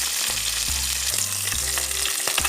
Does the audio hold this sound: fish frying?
yes